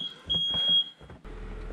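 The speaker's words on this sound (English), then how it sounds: "And Sandra just set off the alarm." Smoke alarm going off indoors on a snowy morning, a loud, piercing steady beep lasting about half a second amid nearby rustling and knocks.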